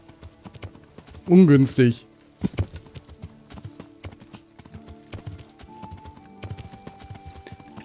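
Horse hooves clip-clopping in the medieval game Kingdom Come: Deliverance, an uneven run of near hoofbeats alongside other game sounds, with a brief loud burst early on and someone speaking over it.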